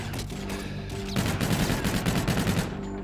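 Rapid automatic gunfire from a Call of Duty: Infinite Warfare match rattles loud and close in a dense, continuous burst that grows heavier midway through.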